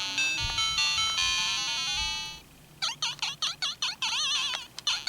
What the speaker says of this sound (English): I love the jumping sound here.